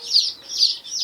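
Chicks peep in rapid, high-pitched chirps, three bright bursts close by with no other sound.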